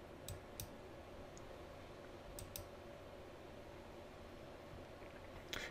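Computer mouse clicks in a quiet room: a few crisp isolated taps, two close pairs early on and another near the end, over faint steady background hiss.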